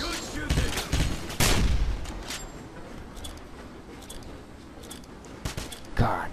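Heavy gunfire from a turret in the Wolfenstein video game, with loud irregular bursts of shots over a constant bed of game noise and a final burst near the end.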